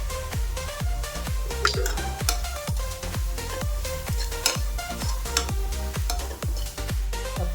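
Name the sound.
sautéing palak paneer ingredients in a pan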